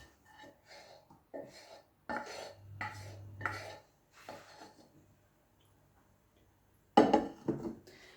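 A spoon stirs chocolate sauce and cream in a measuring jug, with quiet scattered scrapes and clinks in short bursts, a pause, then a louder clatter near the end.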